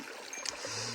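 A river stream flows in a brief, faint, steady rush of water with a soft splash midway, heard alone without voices.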